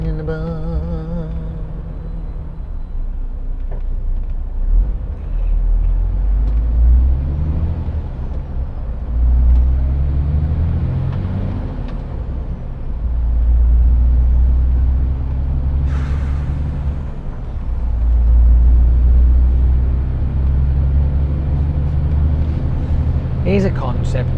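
A truck pulls away with a deep, loud engine rumble that rises and falls through gear changes, with an air-brake hiss partway through, and a person talks over it at times.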